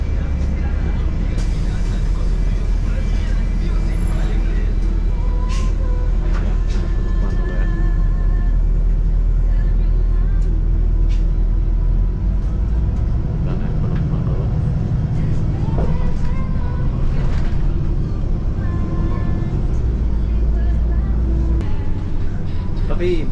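Free city bus at night in Kuala Lumpur, running from Bukit Bintang to Pasar Seni: a constant loud engine rumble and road noise inside the cabin, with rattles and passing clatter, under people talking.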